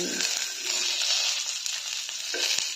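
Fish fries in a hot pan with a steady, loud hissing sizzle that runs throughout, crackling and popping now and then.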